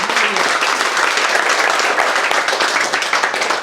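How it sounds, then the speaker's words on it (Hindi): Sustained applause from an audience honoring teachers at a mobile repairing course event, dense steady clapping filling the whole stretch at a loud, even level. "फातिमा मैडम और अमन के लिए जोरदार तालियां"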